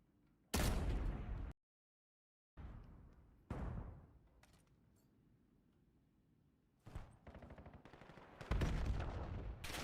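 Gunshots crack in a Valorant esports match, with several sharp loud bursts and rapid volleys separated by short gaps and one moment of total silence.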